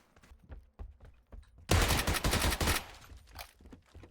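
Gunfire in the video game PUBG: after quiet footsteps and scraping, a loud burst of rapid automatic fire lasts about a second, then a few softer trailing sounds.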